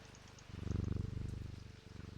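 A cat in Strange Antiquities purrs close and soft, a rhythmic rolling rumble that swells louder midway and then settles, alone without talk.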